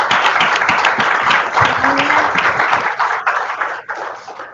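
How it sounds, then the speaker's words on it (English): An audience at an awards event breaks into sustained, dense applause from many hands, loud at first and then tapering off toward the end. "So, round of applause."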